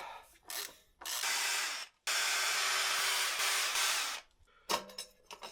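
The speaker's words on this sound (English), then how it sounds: "Loosen the bolts holding the rear sprocket." A power tool whirs in long sustained bursts with brief pauses, loosening the rear sprocket bolts on a Yamaha Tenere 700 motorcycle, loud and close, with a few short clunks between runs.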